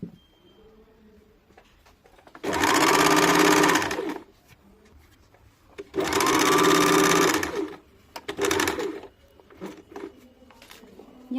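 A sewing machine stitches a kurti hem folded half an inch, running in two loud, steady bursts of about one and a half seconds each with quiet handling noise between them.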